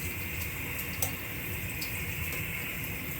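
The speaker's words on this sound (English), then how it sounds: "So I got water go in," Water runs from a tap into a small 110-volt electric water heater, a steady soft splashing hiss that stays even and fairly quiet throughout, with a few faint clicks and no speech.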